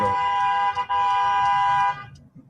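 A nearby car horn blares loudly in traffic at a red light, with a brief honk followed by a long sustained blast lasting about two seconds. Faint road noise remains as the horn cuts off.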